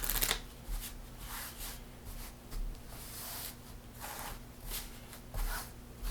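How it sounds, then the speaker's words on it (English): Packets of playing cards shuffled together in a card trick, giving repeated soft riffling bursts roughly every second, close and fairly quiet, with no talking. "Rolled a 3, so we'll shuffle 2 and 3 together."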